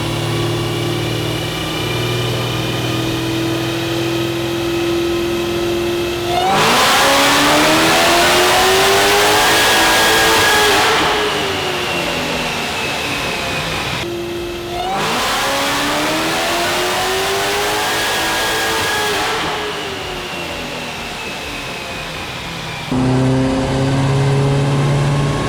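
A 1400 hp nitrous-fed Dodge Demon screams through two long, loud full-throttle revs on a dyno, each pull rising sharply in pitch before cutting off, with lower idling rumble between and after the bursts.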